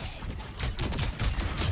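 Gunfire from Cassidy's revolver in Overwatch, a string of quick sharp shots amid busy in-game combat noise, fairly close and moderately loud.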